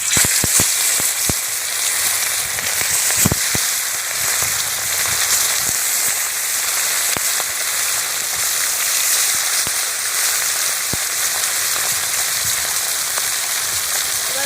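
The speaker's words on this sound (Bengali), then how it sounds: "এবার আমি মাছগুলো ছেড়ে দিচ্ছি তেলের মধ্যে।" Fresh river khoira fish fry in hot mustard oil with a loud, dense, continuous sizzle, broken by sharp pops and crackles throughout, and no one speaking.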